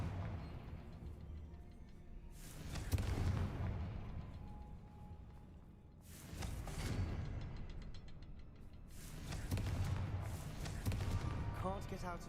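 Fiery spell blasts from a wizarding video game, a Confringo fire spell cast repeatedly, three or so loud booming bursts with rumbling decay, separated by quieter gaps of game ambience.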